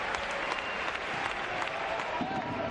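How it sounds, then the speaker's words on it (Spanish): Crowd at the Palau Blaugrana applauding during a Barça EHF Champions League handball match, a dense steady wash of clapping and arena noise filling the whole stretch. "Le aplaude el Palau"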